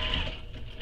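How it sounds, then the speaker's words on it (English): A sewing machine stitches the closed sides of a crossbody bag pocket, a steady close mechanical whir running continuously with slight fluctuations in speed. "Now I'm going to sew the sides of the pocket closed"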